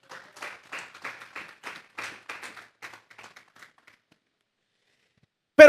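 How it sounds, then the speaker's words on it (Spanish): Applause from a church congregation: a run of quick, rhythmic hand claps at moderate level that thins out and fades away over a few seconds, followed by silence. "Vamos a darle un fuerte aplauso pues al Señor."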